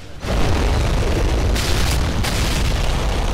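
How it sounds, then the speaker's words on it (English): A car blows up in a Call of Duty MW3 match, a sudden loud boom that swells into a sustained, roaring rumble of debris and fire filling the whole stretch. "I think the car blew it"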